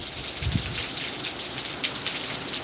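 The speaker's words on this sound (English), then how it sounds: "But basically you can hear the gusts and the rain." Heavy hurricane rain from Hurricane Milton, a Category 3 storm, pours steadily onto surfaces outside a house, with wind gusts rising and falling beneath the constant wet hiss and a brief low rumble early on.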